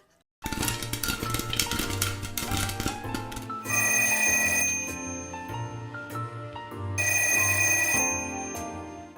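A telephone rings with a bright, trilling bell over busy background music, the ring bursts repeating in steady cycles, loud and close, with no talking.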